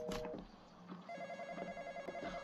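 A telephone in a video game rings faintly, a rapid pulsing electronic tone repeating steadily over a low background hum, with no talking.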